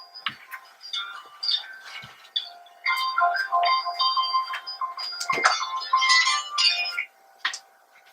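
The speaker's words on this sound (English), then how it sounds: "my alarm's going off" A phone alarm rings with a bright, repeating electronic melody at moderate volume, with brief clicks and handling noise as it plays and then stops.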